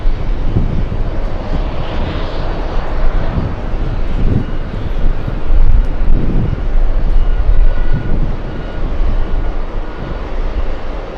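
Airbus A380 engines at an airport produce a loud, steady jet roar with broad rumbling surges and a faint whine, continuous and fairly close, with no talk over it.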